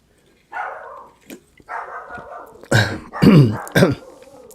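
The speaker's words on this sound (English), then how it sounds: "Old Willie's in there barking out crazy" Willie, a dog indoors, barks and growls in several bursts, some hoarse and throaty, with short quiet gaps between them.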